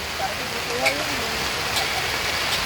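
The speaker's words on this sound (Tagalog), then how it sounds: "Ayan, ang lakas ng ulan." Heavy rain pours down in a steady, dense hiss, loud and constant throughout, with voices talking over it.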